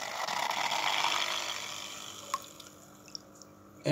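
An XP-03B small hang-on-back filter on a betta fish aquarium pushes a steady rush of water close by, which fades over a couple of seconds into quiet with a few isolated drips and splashes.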